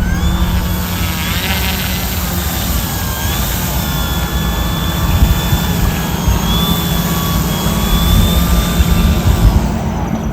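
Turbo Timber Evolution RC model plane on floats, flying with flaps at 50, gives a steady, loud electric whine with tones that rise and fall as it passes, heard alone and continuously.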